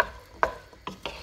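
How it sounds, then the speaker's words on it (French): Onions and peppers stirred in a hot pan, three sharp scrapes and clacks of a utensil spaced apart over a faint sizzle, close and fairly quiet, without speech. "Je viens y mettre les oignons et les poivrons. Je mélange le tout et je laisse cuire comme ça quelques minutes."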